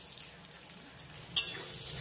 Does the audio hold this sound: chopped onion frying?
yes